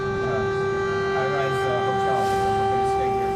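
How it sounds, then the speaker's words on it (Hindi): A steady, sustained air raid warning siren in wartime Ukraine drones continuously at one pitch, with faint background voices and noise beneath it. "खतरे की चेतावनी देने वाला सायरन जैसे ही बजा"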